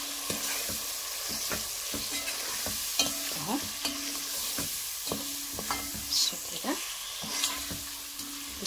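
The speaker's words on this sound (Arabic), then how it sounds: "التوابل بتاعي هنقلب كده التوابل الحلوه دي" A spoon scrapes and stirs ground spices, cumin, meat seasoning, salt and cinnamon, frying in oil in a pan, with a steady soft sizzle under a rhythm of repeated scraping strokes, no talking.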